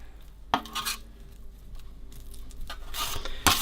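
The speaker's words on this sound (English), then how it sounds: "And we're just going to mix that around." Builders bog filler stirred with its additive, faint scraping and clinking of a mixing tool against a container in irregular strokes, close and quiet with no talk.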